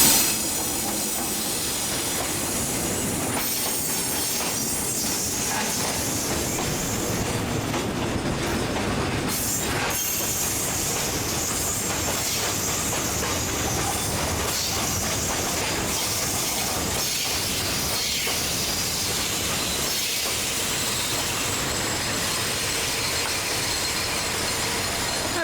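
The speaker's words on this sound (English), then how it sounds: "the conductor started coming onto the platform, and they're like, oh, there's a train coming" A single-carriage train passes a station in Lamphun, Thailand, with steady clickety-clack, hiss and some wheel squeal, loud and continuous throughout, with no talking.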